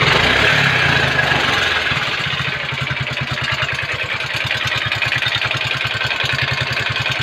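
A Yamaha Mio scooter engine with a worn cylinder block idles with a steady, rapid putter and a faint knocking clatter running through it, close by and continuous.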